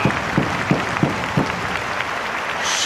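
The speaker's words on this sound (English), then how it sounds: "Not only is the crowd clapping, but they're all stomping on the floor here, making a big rumble throughout the gymnasium" Wrestling crowd in a gymnasium clapping and stomping on the floor, rhythmic heavy thumps at a steady beat over a constant roar of applause, loud and close.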